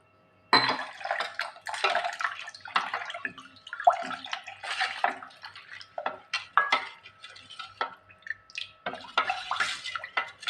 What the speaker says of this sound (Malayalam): ഇച്ചിരി വെള്ളം ഒഴിക്കുകയാണ്.